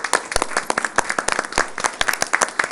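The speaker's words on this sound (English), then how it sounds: "I would just like to stand and give you a round of applause for your year's service" Sparse, uneven clapping from a small audience at a city council meeting, sharp individual claps ringing out at close range with no talk over them.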